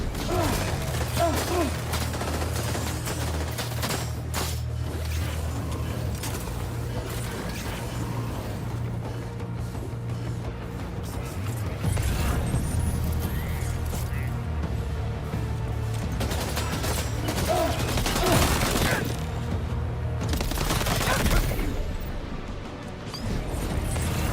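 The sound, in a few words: gunfire from a video game, Death Stranding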